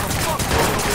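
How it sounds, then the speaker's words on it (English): Several shooters fire at once in the Watch Dogs video game, a dense, continuous burst of overlapping gunshots filling a brief moment, loud and harsh. "how many people are shooting at us?"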